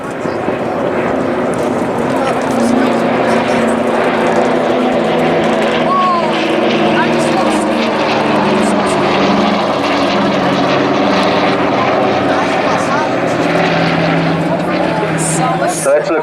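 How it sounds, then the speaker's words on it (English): Spitfire, Dakota and Hurricane propeller aircraft from the Battle of Britain Memorial Flight pass over the Blackpool Airshow, a loud, sustained droning engine roar, with a person talking over it throughout. "Spitfire leading into Dakota, with the Hurricane holding off in front of us."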